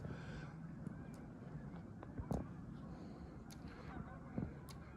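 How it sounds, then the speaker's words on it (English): Geese honk repeatedly at a distance, their calls overlapping in scattered bursts over a steady outdoor background. "the geese are just going like crazy"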